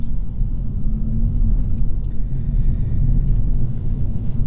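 Low, steady cabin rumble from a 2022 Kia Forte GT driving in smart mode, road and engine noise droning evenly with no talk.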